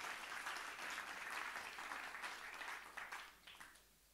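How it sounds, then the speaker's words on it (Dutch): An audience at a university talk-show event applauds a music psychologist as he is called to the stage; dense, steady clapping fills the room, then slowly thins and fades toward the end. "Geef hem ook een hard applaus."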